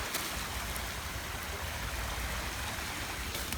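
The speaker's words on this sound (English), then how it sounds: "The sounds of the water plays tricks on your mind." A steady broadband rush of flowing stream water fills the scene, close and continuous without pause, with no voices present.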